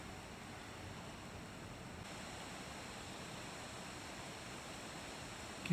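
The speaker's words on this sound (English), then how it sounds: "Can hear the echo of the river" A river rushing steadily in the distance beside a trail below a rock wall, a faint, even wash of water noise echoing with no voices over it.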